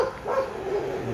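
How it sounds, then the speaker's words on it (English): Dogs barking outdoors, a few short yaps, somewhat distant and faint, with a steady background hum and no talk over them. "I hope those dogs do not chase us."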